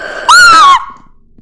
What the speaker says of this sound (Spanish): Qué grito más varonil me acabo de echar